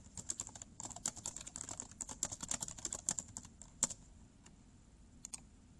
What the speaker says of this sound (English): You want to type the text.